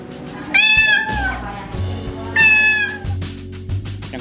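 Cats at an animal shelter meow loudly and close by in two clear drawn-out cries, set against a low background hum and some soft shuffling.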